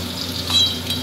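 Koi fish fries briefly in a pan for a Bengali fish curry, giving a short burst of soft, even hissing over a low steady hum.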